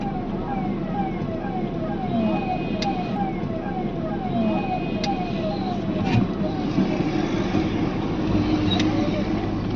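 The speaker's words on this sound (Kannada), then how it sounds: "ಸೊ ಆಂಬುಲೆನ್ಸ್ ಬರ್ತಾ ಇದೆ" An ambulance siren wails in a repeating rising pattern over constant road and engine noise on the Kalyani road near AIIMS Kalyani, holding at a steady moderate level throughout.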